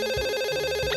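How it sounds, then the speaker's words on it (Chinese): In an animated cartoon, a telephone rings with a rapid, continuous electronic trill, loud and close, filling the short moment alone. "来电话"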